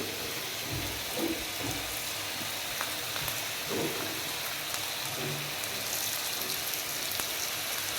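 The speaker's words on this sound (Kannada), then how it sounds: "ಲೈಟಾಗಿ ತವ ಮೇಲೆ ಎಣ್ಣೆ ಹಾಕ್ಕೊಂಡು ಅದನ್ನು ಫ್ರೈ ಮಾಡ್ತಾ ಹೋಗ್ತೀವಿ" Chicken vada frying in a thin layer of oil on a tava, a soft continuous sizzle and crackle with faint scattered pops, fairly quiet and steady.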